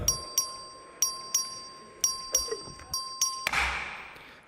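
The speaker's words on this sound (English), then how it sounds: "Clerk, ring the bell." A clerk's bell rings in the Texas House chamber, a series of sharp, clear metallic strikes in an irregular rhythm over a steady tone, ending as a swell of chamber noise rises.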